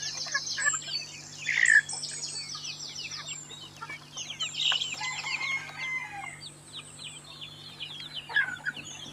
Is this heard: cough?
no